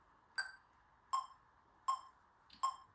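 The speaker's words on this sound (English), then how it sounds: "Let's try putting that with the metronome." Metronome ticking alone at a steady, even pulse, four clear clicks spaced about three-quarters of a second apart, faint and close in a quiet room.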